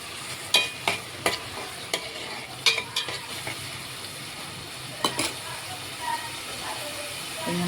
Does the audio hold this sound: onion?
yes